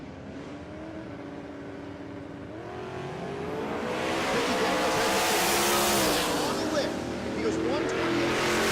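Drag race car making a quarter-mile pass at Texas Motorplex, a rising engine roar that swells and sweeps past, loud but slightly distant, under a commentator's talk.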